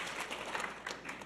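A Cuesta College opening-day audience in a large room gives faint, scattered claps, a light distant patter of a few hands rather than full applause, with no one speaking.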